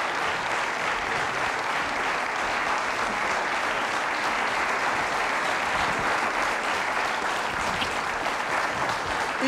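A TV studio audience applauds Yavuz Bingöl on İbo Show with dense, sustained clapping, steady and loud from start to finish with no break.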